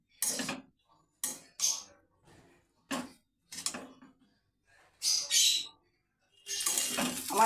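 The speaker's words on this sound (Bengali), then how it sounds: "ভালো করে একটু নাড়াচাড়া করব, মিক্স করে নেব সসগুলো।" Chowmein being stirred to mix in the sauces, giving intermittent scraping and clinking of a utensil against a pan in short separate bursts, fairly close and moderate in volume.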